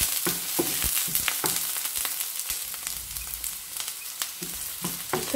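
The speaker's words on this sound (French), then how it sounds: "Là, je vais mettre un peu d'huile dans une poêle. Je vais commencer par faire suer l'oignon." Chopped onion sweating in oil in a frying pan for spinach and feta filling: a steady close sizzle with frequent scraping and stirring clicks, no talk.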